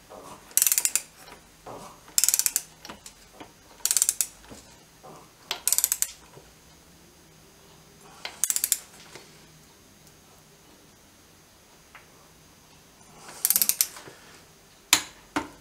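A torque wrench tightening a fastener to 40 foot-pounds on a BSA B50T motorcycle, heard as several short bursts of ratcheting clicks separated by quiet pauses, close by with no talk.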